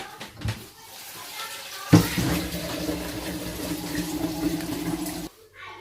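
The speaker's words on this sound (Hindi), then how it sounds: "ये एक जग डाला और इसके भी हम और पानी डालते हैं।" Water poured from a jug over paya (goat trotters) in a cooking pot, a steady splashing gush that starts abruptly, runs for a few seconds close by, then stops.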